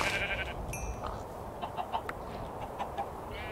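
Sheep bleat and other farm animals call in a Minecraft modpack game, several short bleats and clucks of moderate loudness over a background of game ambience, with no talking.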